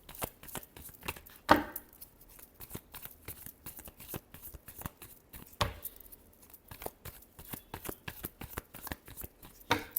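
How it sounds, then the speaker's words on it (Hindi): Playing cards shuffled by hand nearby, fast crisp riffling and flicking bursts coming in short repeated runs with brief pauses between them. "Last shuffle."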